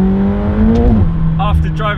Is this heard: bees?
no